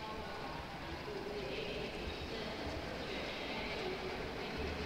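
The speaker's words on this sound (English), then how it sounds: "very fittingly with the track name, it sounds like a train station" Train station ambience within a track: a steady, dense wash of rail and platform noise with faint tonal hums, continuous and even in loudness throughout, with no voices.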